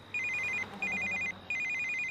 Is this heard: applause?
no